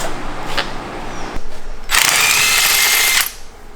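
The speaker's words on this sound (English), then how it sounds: "You got the lug nut off. Power tools" A loud burst of whirring from a power tool removing a lug nut on a Mazda Miata lasts just over a second, preceded by a few clicks and clanks, then drops back to quiet.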